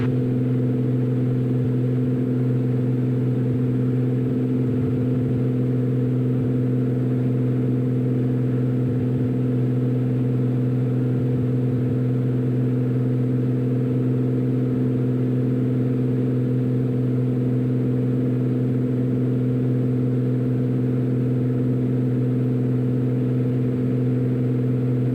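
A 2008 Cessna 400 piston engine drones steadily and loudly while the plane climbs out from Thermal, a constant low hum with no pauses and no voices over it.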